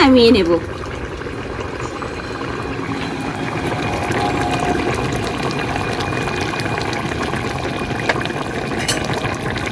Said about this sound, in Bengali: নুন দিয়েও একটু ফুটিয়ে নিলাম